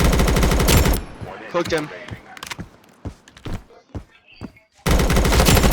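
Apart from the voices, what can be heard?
gunfire in video game Blackhawk Rescue Mission 5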